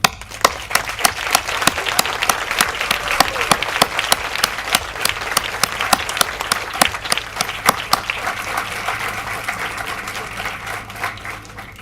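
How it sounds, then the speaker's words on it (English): A university graduation audience gives a steady, sustained round of applause for standing graduates, many hands clapping densely and evenly throughout. "And join me in a round of applause."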